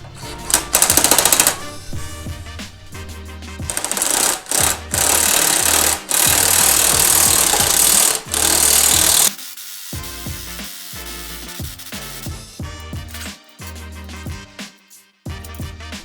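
A bearing pressed into a Porsche 911 control arm with a washer and nut, giving loud rhythmic mechanical clicking and grinding bursts broken by short pauses, then a quieter stretch of intermittent ratcheting.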